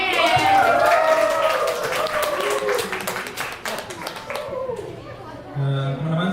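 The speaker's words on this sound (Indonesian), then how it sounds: "Mari kita beri tepuk tangan yang paling meriah dulu dong" Audience at a creators' exhibition event in Banten claps and applauds loudly at first, the clapping thinning out and fading while a voice talks over it toward the end.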